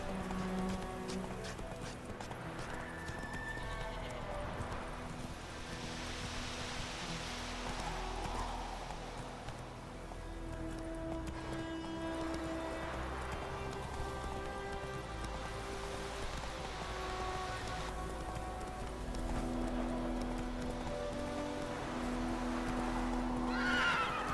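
A horse in The Witcher 3 gallops with steady clip-clop hoofbeats throughout, and a clear neigh rises over them near the end.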